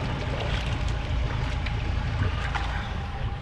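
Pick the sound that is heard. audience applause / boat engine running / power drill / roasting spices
boat engine running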